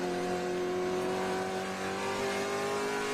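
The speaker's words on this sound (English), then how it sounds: "You can hear from the way he's using the throttle as well." A TA2 race car engine under steady throttle at Watkins Glen, a loud, sustained, even engine drone with strong harmonic tones held through the whole stretch, with no voices over it.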